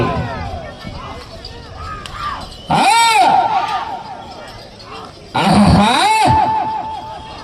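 Crowd shouting and cheering at a timed bullock-cart pulling competition for six-tooth bulls in a village, with an announcer's amplified voice over a general din and two loud surges of yelling.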